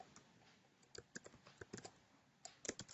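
A username is being typed on a computer keyboard: quiet, close key clicks come in irregular bursts with short pauses between them.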